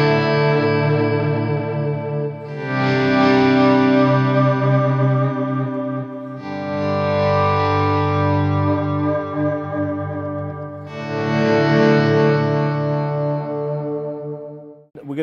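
Sustained electric guitar chords through a TC Electronic Nova Delay pedal, drenched in shimmering digital delay and ambient echo, three swelling phrases with repeats trailing off between them.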